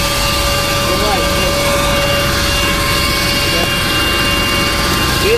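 An Agusta Grand helicopter lands with a tailwind, its engine and rotor making a loud, constant roar with steady turbine whine tones. Voices talk over the noise.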